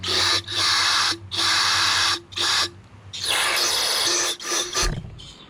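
Repeated hissing bursts of aerosol carburetor cleaner sprayed through a straw onto a lawn tractor carburetor, several long blasts separated by short pauses, close and loud with no voices.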